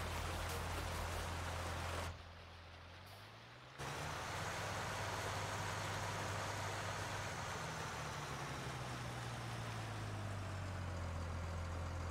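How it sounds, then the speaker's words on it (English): A tractor engine idling in a farming game, a low steady hum with a brief drop in the noise, then a pitch that slowly glides up as it runs on alone. "Try driving up to it with the tractor again."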